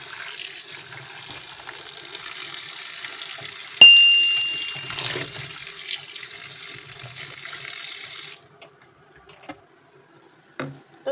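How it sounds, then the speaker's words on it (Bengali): Tap water runs steadily into a bowl of frozen peas set to soak, a close, even splashing rush that cuts off near the end, followed by a couple of small clinks. "এটাকে আমি এখন জল দিয়ে একটু ভিজিয়ে রাখবো"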